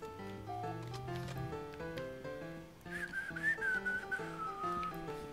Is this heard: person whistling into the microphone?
yes